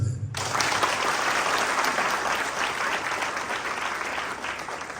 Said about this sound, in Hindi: एक बार जोर से चिल्लाकर हालेलुया, और साथ में ताली बजा दे